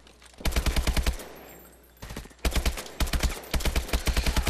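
Rapid automatic gunfire from Call of Duty: Advanced Warfare on PS4, loud and close, in several sharp bursts with a short pause between them.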